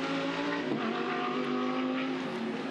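An Audi R8 Ultra GT race car at full speed in an Australian GT Championship race at Adelaide gives a loud, steady, close engine roar that holds high revs throughout without a break.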